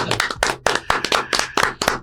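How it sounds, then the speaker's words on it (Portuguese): A church audience applauds, dense overlapping hand claps with uneven bursts, fairly loud and close, with a few faint voices mixed in. "Palmas para o pastor Bruno Catunda."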